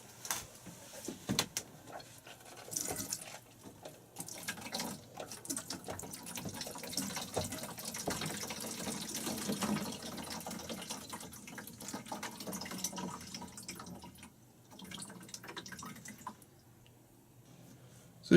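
Water runs from a van's kitchen sink down a thin plastic drain line into a tank, a faint, uneven trickle and gurgle with occasional drips and clicks, quiet and close.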